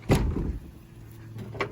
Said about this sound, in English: the doors are kind of stuck.